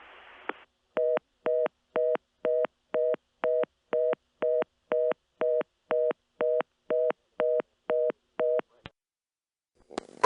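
A telephone network's fast busy signal, the reorder tone heard when circuits are busy, sounds as a regular train of about sixteen short dual-tone beeps, clear and isolated, followed by a brief silence and a click.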